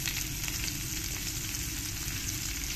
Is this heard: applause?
no